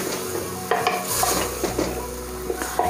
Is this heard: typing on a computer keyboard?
no